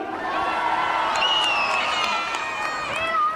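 Crowd noise at the Three Kings parade in Vigo, a loud mass of cheering voices and children shouting with some clapping beneath, continuous and close.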